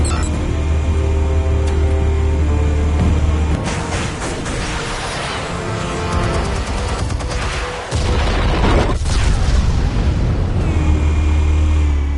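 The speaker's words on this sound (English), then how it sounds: "Explosives armed. Fire when ready." Heavy explosives detonate in Batman Telltale, a loud sustained barrage of booms and crackling blasts with deep rumbling low end, briefly dropping before another blast and continued roaring.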